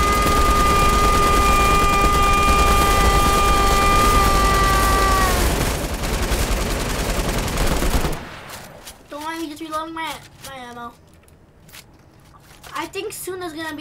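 Rapid gunfire from a golden gun in the Fortnite video game blasts steadily for about eight seconds, then gives way to voices talking over quieter game sounds.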